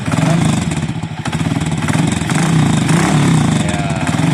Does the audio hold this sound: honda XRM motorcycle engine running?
yes